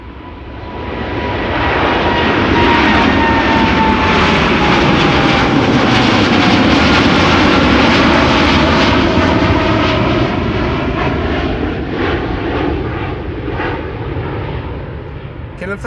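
A KLM jet airliner, flight 751 bound for Quito, rolls for departure on runway 24 at Amsterdam Schiphol, its engines building to a loud, sustained roar that swells after a second and holds steady, with a faint voice underneath.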